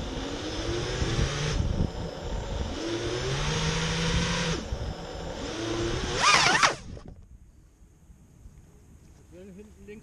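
A car engine fails to rev, straining with a droning whine that never climbs, sputtering briefly before cutting out into quiet, with muffled voices nearby.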